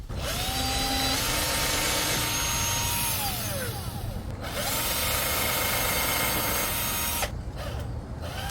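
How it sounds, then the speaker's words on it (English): A power drill whines continuously while boring a pilot hole, its motor pitch rising and falling across several bursts with brief pauses, loud and close. "Got to screw in a pilot hole."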